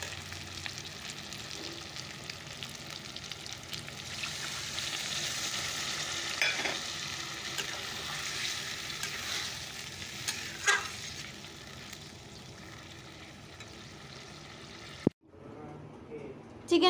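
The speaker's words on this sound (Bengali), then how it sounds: "চিকেনটা কষানো হয়ে গেছে। তো চলো এবার ঝোলটা দিয়ে দিই।" Chicken and potato curry frying and stirring in a pan as gravy is poured in, a steady broadband sizzle running throughout, with a sharp cut to quieter sound near the end.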